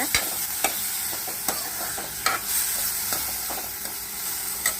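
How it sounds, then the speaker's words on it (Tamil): Chopped tomatoes sizzle steadily in hot ghee for tomato rasam, with a constant frying hiss and light, scattered scrapes and taps of a stirring spoon against the pan, close and alone without talk. "தக்காளி கட் பண்ணி வச்சதை போட்டுட்டு வதக்கிக்கோங்க"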